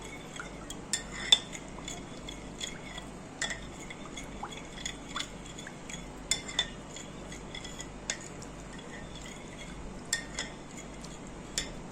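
Vermicelli being stirred in milk in a pot, with quiet scattered clinks and scrapes of a spoon against the pot over a soft, low background, spread irregularly throughout.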